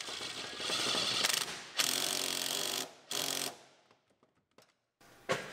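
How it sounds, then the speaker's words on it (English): Ratchet wrench tightening a bolt on a car's steering shaft, heard as several bursts of rapid close clicking separated by short pauses, with a few faint ticks near the end. "put our bolt in it, and tighten it up."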